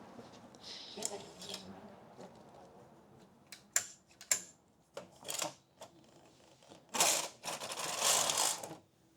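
A knitting machine knitting a paw print pattern gives irregular mechanical clicks, ratcheting clacks and sliding rasps at close range, with bursts of carriage movement and no voices.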